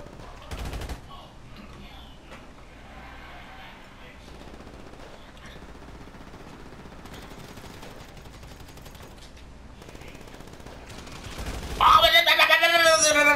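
Police gunfire in GTA 5, a loud rapid burst of automatic shots erupting near the end after a stretch of muffled game noise and scattered sounds.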